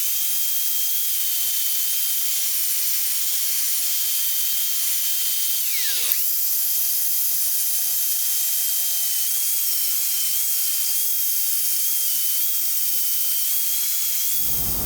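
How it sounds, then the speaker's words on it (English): Angle grinder with a grinding disc rounding over a welded metal stump, a steady high whine held close and loud throughout, with a brief dip in pitch midway and a low hum near the end. "Make sure you're using a grinding disc, not a cutting disc, especially this one."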